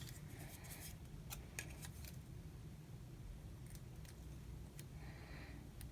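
Scissors snip out a paper item for a monthly budget, giving a few short, crisp cutting bursts over a steady low background hum with no talking.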